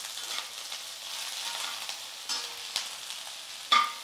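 Okra and potato sautéing in hot oil with turmeric, a steady close sizzle and fry with a few scraping stirs of a spoon in the pan, one louder clatter near the end, no talking.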